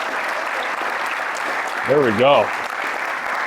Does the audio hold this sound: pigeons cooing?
no